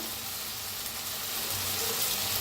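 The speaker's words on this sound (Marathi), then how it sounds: "आता छान भाजायला लागलेला आहे." Tomatoes fry with turmeric and coriander powder for a cauliflower and potato curry, giving a constant, even sizzle and crackle at moderate loudness with no talking.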